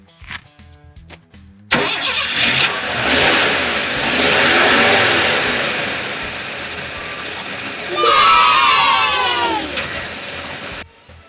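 A Ford F-150 truck engine with a new carburetor cranks, catches and starts after a few seconds, then idles and revs up twice, loud and close, with a voice now and then.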